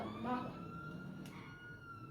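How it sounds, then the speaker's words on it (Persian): A police car siren wails in GTA V, a rising and falling tone heard behind traffic and engine noise, moderately loud and continuous across the short stretch. "با ماشین پلیس آژیرمون رو روشن کنیم مردم یا میزنن کنار یا ترمز میکنن."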